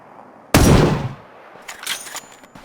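A single sharp gunshot in Ring of Elysium, loud and close, with a decaying tail, followed by a few fainter, more distant pops and clanks.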